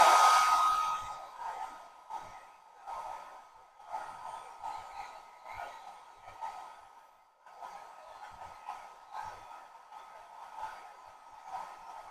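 A hair dryer blows steadily on a meadow-scene painting in progress, a close continuous whir with a faint tone that shifts slightly as it moves over the surface. Nobody talks.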